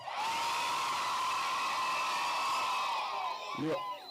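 Crowd at an outdoor community event where a governor's wife hands out geometry sets and sanitary pads to exam candidates, a sustained roar of cheering and shouting that swells and holds, then tails off as a voice breaks in near the end.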